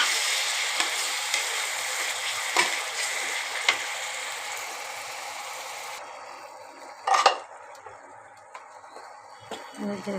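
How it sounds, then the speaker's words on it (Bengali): Spices with salt, turmeric and a few grains of sugar sauté in a pan, giving a soft sizzle with occasional spoon scrapes. The frying noise drops away midway, followed by a louder clatter of a utensil against the pan and quieter handling. "এবার এটা ভালো করে নেড়ে চেড়ে কষাতে হবে যতক্ষণ না কাঁচা গন্ধটা যায় মশলা।"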